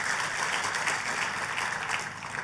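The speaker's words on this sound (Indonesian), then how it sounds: "tepuk tangan yang paling meriah buat Tuhan kita" A church congregation applauding during a sermon, dense and even clapping from many people, moderately distant and sustained without pause.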